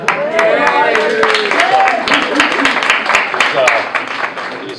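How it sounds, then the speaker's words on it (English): Scattered hand claps crackle from an audience at a youth empowerment conference while a person keeps talking loudly over the applause. "So give him a round of applause."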